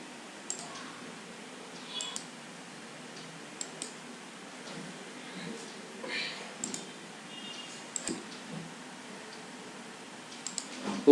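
Sharp, scattered mouse clicks on a PC while setting up an MSI emulator, sounding close and fairly quiet over a soft steady room hiss, with uneven gaps between the clicks.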